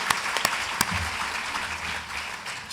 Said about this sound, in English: Let's give them a good clap.